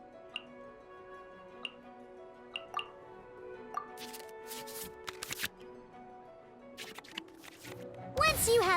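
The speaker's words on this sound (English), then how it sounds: "we can select any number of cards in our hand to shuffle back into the draw pile" Card-game sound effects from the Genshin Impact trading card game: a series of soft ticks and chimes, then several quick shuffling bursts as cards are returned to the draw pile, ending in a brighter flourish.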